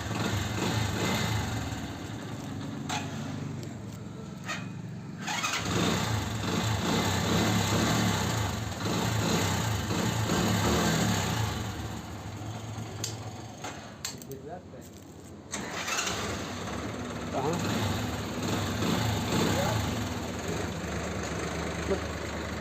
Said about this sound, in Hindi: चाबियों को ऑन करते हैं, सेल्फ मारते हैं